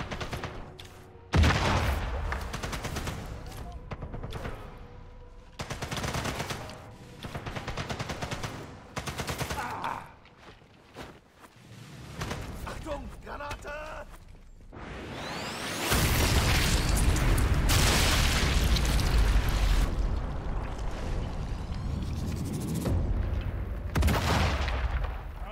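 A grenade explosion and gunfire in the co-op shooter Sniper Elite 5: repeated bursts and booming blasts over about 25 seconds, ending in a long, loud roar of explosion and gunfire.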